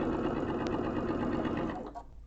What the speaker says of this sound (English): So for this one, I'm going to stitch just on the corner side of the line.